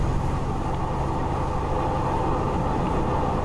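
A train runs in the Train Planet video game as a steady, loud rolling rumble with broad mechanical noise throughout, no pauses and no talking.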